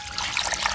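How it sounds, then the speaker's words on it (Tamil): Water trickles and sloshes as ground finger millet is rinsed by hand in a vessel, a steady close wet swishing with small splashes throughout. "ரதியம்மா அரிக்க போகிறாங்க. கஷ்டம் அந்த வேலை"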